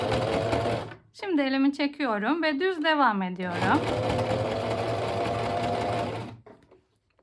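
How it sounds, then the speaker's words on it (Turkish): A home sewing machine stitches a fabric lining into a crochet bag with a cat figure, a steady mechanical whir running throughout and someone talking over it before it stops near the end. "Birkaç tane diktikten sonra burada geri tuşu var benim makinamın. Geriye doğru birkaç tane dikeceğim şimdi."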